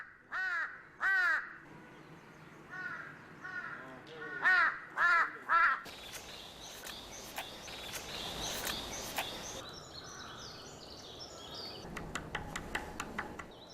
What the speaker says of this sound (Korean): 큰 부리 까마귀 소리에 놀란 큰 오색 딱따구리가 바짝 긴장합니다.